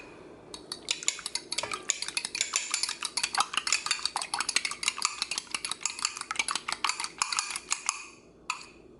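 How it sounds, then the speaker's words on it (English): Three eggs are lightly beaten in a bowl for a praline sweet potato pie, a utensil clicking rapidly and steadily against the bowl in a dense, even rhythm that stops briefly near the end. "you're gonna need 3 eggs, and you want to slightly beat them"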